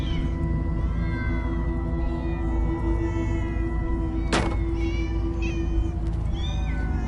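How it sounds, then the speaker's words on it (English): Many cats meowing in a Minecraft Story Mode room full of portraits, overlapping cries repeating steadily over a low ambient drone, with one sharp louder burst partway through. "Ah, many cats. So many cats."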